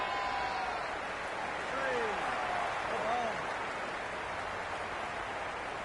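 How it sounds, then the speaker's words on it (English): A raucous stadium crowd in a cricket video game keeps up a broad, steady roar, with a couple of whistling calls rising above it and a commentator's voice underneath. "The crowd are really getting quite raucous."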